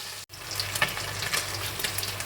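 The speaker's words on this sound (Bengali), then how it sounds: "তারপর মাছগুলোকে ভালো করে ভেজে নিতে হবে।" Small mourola fish fry in mustard oil in a wok, a steady close sizzle that crackles throughout after a brief cut near the start, with no voices.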